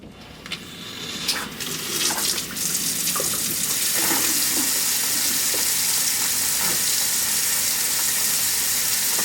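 A Moen kitchen faucet under repair is turned on, and water rushes steadily into the sink with a loud, continuous hiss and splash after a few handling knocks at the start.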